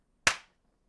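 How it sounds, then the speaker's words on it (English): A single sharp hand clap marks the start of a recording for audio sync, close and loud, with a quick decaying tail and silence around it. "We usually clap sync for fun"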